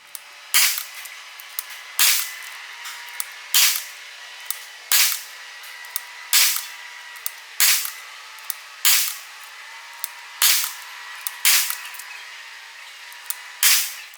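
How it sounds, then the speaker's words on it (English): Shots from an FX Impact M3 air rifle fitted with a power plenum and set to sub-12 ft-lb, fired at an outdoor range at 50 yards. About ten sharp cracks come at an even pace, each followed by a short faint tail, with no talking. "And here we are doing a little bit of shooting."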